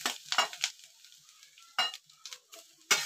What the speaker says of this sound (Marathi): पहिलं खोबरं घालून घ्यायचं आणि हलकं हलकं गरम करायचं खोबरं.